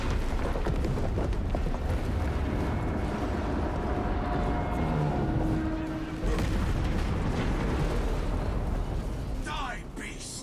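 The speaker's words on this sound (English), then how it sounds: "Detonate the charges" Detonated charges explode in the video game Space Marine 2, a heavy, sustained rumbling blast that fills the whole stretch, with game voices speaking over the din.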